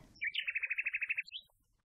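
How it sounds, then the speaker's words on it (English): A single bird sound effect from a children's English textbook recording: a rapid, even series of about ten high chirps in quick succession, clear and close, with a brief rising note at the end and no talk. "I've got a bird."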